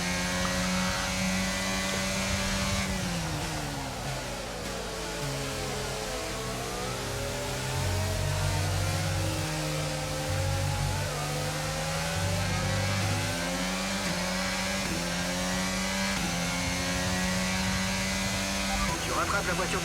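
Race car engines in the F1 22 video game, a sweeping, revving whine rising and falling through gear changes, with a lower engine drone beneath and voices talking over it.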